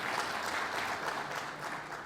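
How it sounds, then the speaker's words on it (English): An audience claps steadily in a dense, continuous round of applause that lasts a couple of seconds. "I think that deserves a very, very big round of applause"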